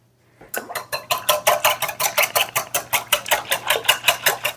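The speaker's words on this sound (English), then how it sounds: "And we're just going to put these 3 eggs right in here. We're gonna grab a whisk." A whisk beats three eggs in a bowl for bread pudding, a fast, even run of sharp metallic clicks and scrapes against the bowl, close and loud, starting after a brief silence.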